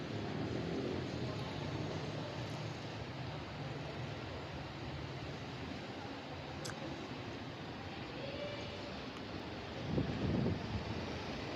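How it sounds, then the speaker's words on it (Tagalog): Strong wind blows in Santa Cruz, Manila under an overcast sky, a continuous broad roar buffeting the microphone with a gust swelling near the end, no talking. "Sobrang lakas ng hangin"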